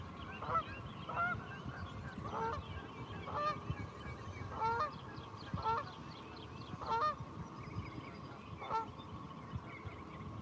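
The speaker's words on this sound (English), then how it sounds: "Those some honkers." A flock of geese honks repeatedly in short, evenly spaced calls over a steady outdoor background rumble, moderately distant and fairly faint.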